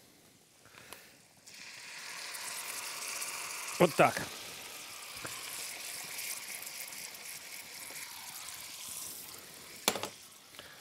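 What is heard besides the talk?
lemon juice poured into hot butter, sizzling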